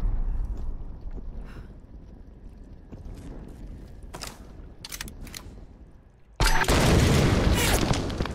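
An explosion goes off in the Tomb Raider video game as a sudden loud, broad blast that follows a stretch of quieter rumbling ambience and scattered clicks and thuds, then rumbles on at full level.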